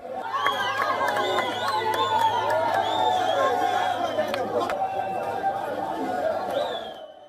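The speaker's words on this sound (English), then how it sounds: "people on the streets clapping and cheering on as the fighters marched and drove into the city center" Crowd in city streets clapping and cheering as fighters march and drive into the city center, a dense continuous roar of chatter, shouts and children's cries with scattered claps, steady and loud throughout.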